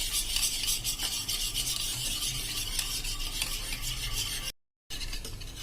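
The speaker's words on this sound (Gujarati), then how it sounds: "હવે આ બધું આપણે મિક્સ કરી લેશું." A spoon stirs a dry spice mix of red chili and coriander-cumin powder for a potato and yogurt curry, giving a steady, close, scraping rasp with rhythmic strokes, briefly cut off by a short gap near the end.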